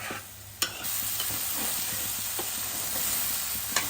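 Mutton paya curry with coconut paste is stirred in a hot pan, a continuous close sizzle with occasional spoon knocks and scrapes against the metal.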